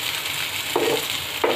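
Fish fries in a pan with a steady close hiss of sizzling oil, broken twice by brief stirring or scraping sounds, no voices.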